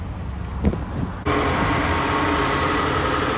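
A 2007-2011 Toyota Camry engine turns over and catches after a radiator replacement, a short crank-like thump followed by an abrupt steady idle hum with the AC running, close and continuous.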